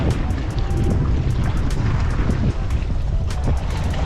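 Strong wind on a beach roaring and buffeting against the microphone, loud and constant with low rumbling gusts and no speech.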